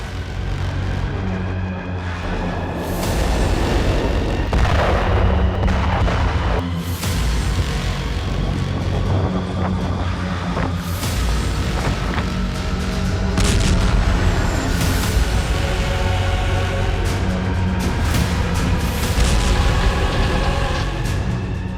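Heavy artillery fire during a Ukrainian attack on Russian targets near Luhansk: dense, loud booming and rumbling blasts roll on continuously over a noisy battlefield background, with no clear voices.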